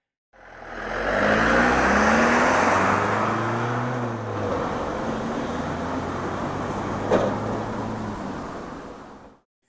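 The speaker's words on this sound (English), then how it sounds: "now it's time to finally take this car on the road for the first time in 28 years" Ferrari Mondial driving on the road for the first time in 28 years, its engine note rising in pitch as it accelerates, easing off, then settling into a steady cruise, close and fairly loud.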